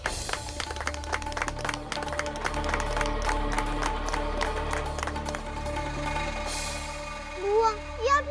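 An audience claps steadily in welcome for a widow at a village gathering, sustained applause with a rhythmic beat under it and voices rising toward the end.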